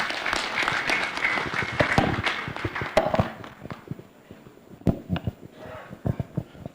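An audience at a higher education exhibition in Uganda applauds the chief guest, starting as dense clapping that thins to scattered single claps.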